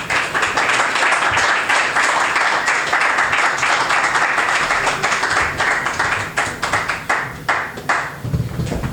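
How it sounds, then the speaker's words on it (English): Audience applause for performer Barbara Solsky at a variety show in Williamsburg, a dense, steady wash of clapping that holds for about eight seconds before thinning into scattered claps at the end. "everybody give another big round of applause for Barbara Solsky"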